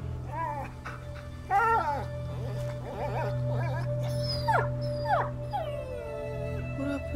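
A dog in the video game A Plague Tale whimpers and whines in a series of rising and falling cries, some stretching into short howls, over a steady low background drone.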